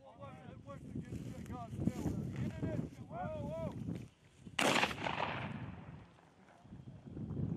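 A single loud, sharp gunshot cracks outdoors during a bird hunt, followed by a decaying boom over wind noise, with people talking before and after it.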